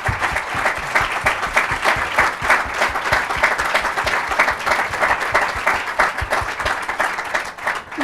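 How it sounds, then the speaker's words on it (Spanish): An audience at a talk welcomes three guests, including a photographer, with sustained clapping, individual hand strikes distinct and rhythmic, loud and close, with no speech over it. "démosles, por favor, a los tres la bienvenida con un aplauso"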